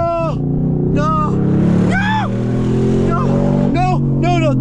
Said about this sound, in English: I don't like tire screeching like that.